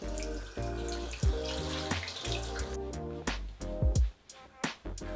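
A bathroom tap runs while someone rinses face oils off, with water splashing and dripping into the sink in irregular bursts, close up with no speech.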